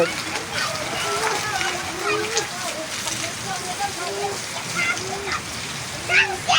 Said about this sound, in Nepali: पुरा पानी पर्छ।